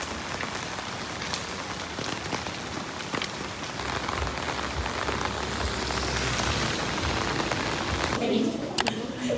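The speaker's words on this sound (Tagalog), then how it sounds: "Raining." Steady rain pours on a rainy day in Da Nang, Vietnam, making a loud continuous hiss and patter close by for the whole stretch, with a few handling bumps near the end.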